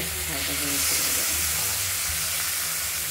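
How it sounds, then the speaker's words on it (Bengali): Shrimp fry in hot oil with a steady, dense sizzle and hiss that carries on without pause, close and fairly loud, with faint clatter and no talking. "এগুলোকে একটু তেলে ভেজে নেব।"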